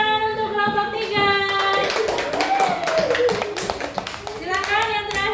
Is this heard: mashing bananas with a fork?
no